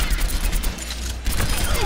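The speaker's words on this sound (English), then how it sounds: "Now, activate your tactical visor and destroy the training bots." Soldier 76 fires rapid bursts at training bots with his tactical visor active in Overwatch, a fast, continuous stream of close, loud gunshots broken by a brief pause.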